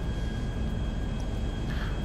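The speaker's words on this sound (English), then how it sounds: "let me find a place to land this plane first, otherwise we will crash" Fixed-wing airplane flying in Grand Theft Auto Online, a steady broadband engine roar with faint tonal whine, continuous and even at moderate level with no talk.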